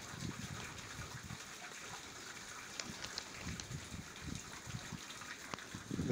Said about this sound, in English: I'm just going to try and film down this shaft where the water seems to drain away down towards the Irwell